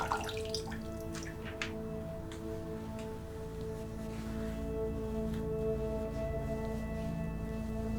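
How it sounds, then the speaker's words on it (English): Large sponges are rinsed in fresh warm water, giving soft splashes and drips that are busier at first and then settle into gentle trickling, close and quiet with a steady hum underneath. "Using fresh warm water and large sponges, I wash away all the cleanser."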